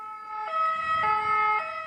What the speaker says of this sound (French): c'est quand on a une ambulance qui passe ou une moto qui passe à grande vitesse